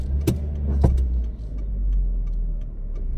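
A manual car pulls away in first gear with a steady, close low engine rumble, a couple of sharp clicks and rattles near the start and no talk.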